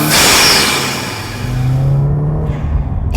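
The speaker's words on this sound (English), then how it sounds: "You can definitely hear that turbo sucking in the air, that induction noise that I love" Turbocharged 2015 Subaru WRX with an AEM cold air intake, its loud whooshing induction noise rising and falling over a low engine rumble, with a brief blow-off valve hiss near the end.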